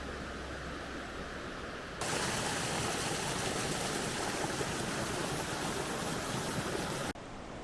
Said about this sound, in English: we get our first glimpse of waterfall number 1, which is Pecca Falls, dropping 30 metres